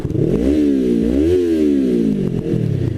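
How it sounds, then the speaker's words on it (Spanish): A 2019 Yamaha R3 motorcycle with an aftermarket exhaust revs up and down repeatedly, loud and throaty, close up, the pitch climbing and dropping in quick swells. "traigo una moto con un escape un poco más ruidoso, con un escape aftermarket"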